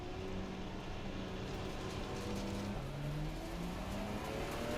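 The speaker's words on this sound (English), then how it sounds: "Nice little rumble when we're going off track there." Sim racing car engine in a racing video game rumbling steadily as it runs off track, a continuous close drone with shifting engine tones and no talk.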